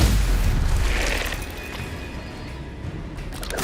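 A Stupefy spell blast goes off in the Hogwarts Legacy video game, a loud booming burst that fades into a rumbling tail, with a rising whoosh at the very end.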